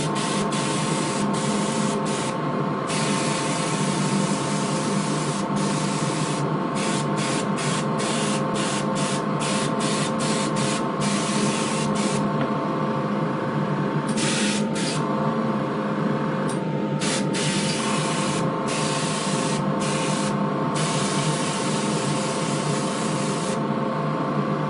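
Airbrush spraying paint onto a sorrel/chestnut model horse, a steady hissing spray that runs almost continuously, broken by many short pauses as the trigger is released and pressed again.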